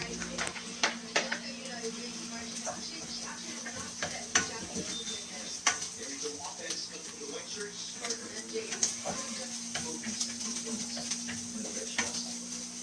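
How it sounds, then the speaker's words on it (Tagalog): Smoked fish (tinapa) sautéing in a pan for a bamboo shoot dish, with steady sizzling and repeated clinks and scrapes of a utensil stirring against the pan, close and moderately loud. "nasangkot na natin ang ating tinapa"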